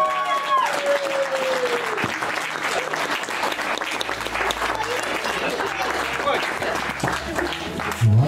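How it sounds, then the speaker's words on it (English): Wedding guests applaud the newlyweds, with continuous clapping and cheering as a voice speaks briefly at the start and some background noise underneath. "Let's have a round of applause, please."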